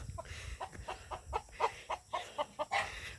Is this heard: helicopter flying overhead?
no